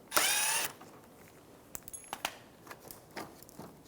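A power tool briefly spins out a 10mm bolt on a 2014-2019 Toyota Highlander front bumper cover, a loud half-second whir followed by quiet clicks and small ratcheting taps.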